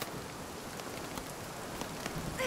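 Hail patters steadily and faintly in a fantasy video game, a soft scattered drumming with occasional sharper ticks and no voices.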